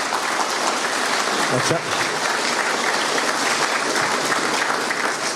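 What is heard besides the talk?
audience applause at accordion band anniversary event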